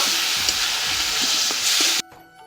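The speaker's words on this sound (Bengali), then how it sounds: "ভালো করে মশলাটা কষায় নিব" Spice paste with green chili paste frying in a pan, a steady loud sizzle with faint stirring scrapes for two seconds that cuts off abruptly to near quiet.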